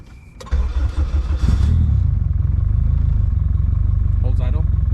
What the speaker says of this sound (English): The goal right now is to get this car to stay on, turn on by itself, and hold idle